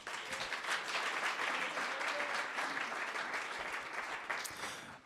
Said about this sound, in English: So let's give her one more hand.